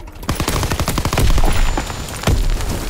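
Rapid automatic gunfire rattles in a near-continuous loud burst in a multiplayer war video game, aimed at infantry beside a tank, with sharp cracks stacked close together and a few louder shots standing out.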